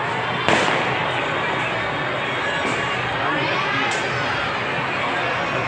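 Firecrackers and fireworks bursting amid a dense, noisy festival crowd, with a sharp crack near the start and further pops scattered through a steady roar of people and voices.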